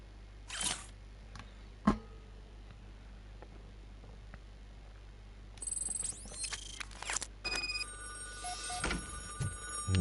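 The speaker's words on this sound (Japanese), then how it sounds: "電話鳴ってんの？" A telephone rings in the RoboCop video game, ringing in two bursts midway and continuing near the end. Each burst is a bright, buzzy electronic trill, with brief clicks and other game sounds in between.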